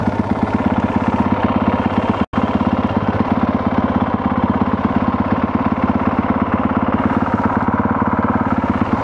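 A brand-new 2022 Honda CRF 450R on its stock exhaust idles while warming up, a loud, steady, rapid engine putter close by, with one momentary break in the sound.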